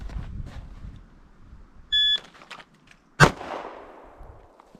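A single sharp pistol shot drawn from concealment, loud and close with a decaying tail, preceded by a brief electronic timer beep and some faint handling noise.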